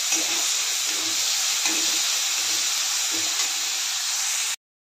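Dill greens with gram flour, garlic and oil sizzling in a pan, a steady close hiss with faint intermittent scraping bumps, moderately loud and alone without talk.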